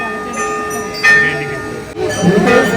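Temple bells ring in a busy spot, with sustained metallic tones and fresh strikes about every second, while people talk in the background.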